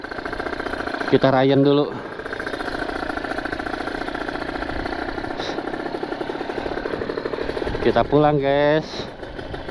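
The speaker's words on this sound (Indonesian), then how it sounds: "Kita mau lanjut lagi manasin motor." A ported Kawasaki Ninja RR, a daily rider with a rough, snoring-style idle, warms up with a steady close engine drone throughout, while a voice speaks briefly over it twice.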